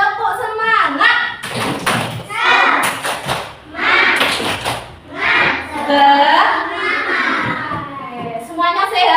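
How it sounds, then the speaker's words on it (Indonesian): A classroom of young pupils performs the Indonesian 'tepuk semangat' clapping chant, bursts of rhythmic group claps and thumps alternating with loud children's chanting voices in a close, lively room. "Kita tepuk semangat dulu."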